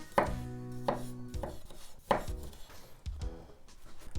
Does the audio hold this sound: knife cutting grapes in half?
yes